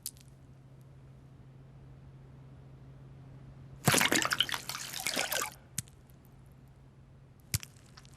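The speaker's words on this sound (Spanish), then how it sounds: "el agua pura y corriente captará toda la suciedad y dejará la" Clean water splashes over a water-repellent coated spoon in a short, close burst of about two seconds, followed by a couple of faint drips in otherwise quiet surroundings.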